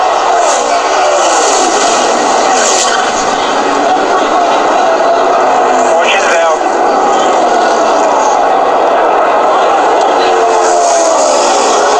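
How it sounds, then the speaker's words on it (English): NASCAR stock cars roaring at full speed around a superspeedway, engine drone loud and continuous with a brief crash burst midway, under excited race commentary. "And a huge wreck to end this race."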